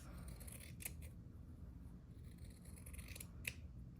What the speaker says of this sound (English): So I'm just gonna take my scissors